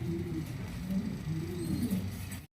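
Fancy pigeons, including a Russian Angel, coo softly and close by in a low, rolling throaty murmur, repeated in a steady rhythm for a couple of seconds before cutting off.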